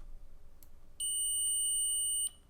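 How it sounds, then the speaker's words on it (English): A multimeter set to continuity mode gives one steady, high-pitched electronic beep lasting a little over a second as its two probes touch, with quiet room hiss before and after. "When the multimeter detects a complete electrical path between the 2 probes,"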